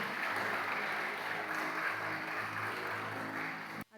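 Audience applause at a welcome event at Universidad La Salle Morelia, a steady wash of clapping from a crowd that holds for several seconds before cutting off abruptly near the end.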